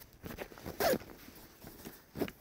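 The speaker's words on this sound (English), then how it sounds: "Zippers are right there. Very heavy duty zippers." Heavy-duty zippers on a portable privacy toilet tent are pulled in a few quick, close rasping strokes, one louder pull standing out, with quiet gaps between and no talking.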